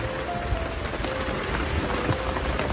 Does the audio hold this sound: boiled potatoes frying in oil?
no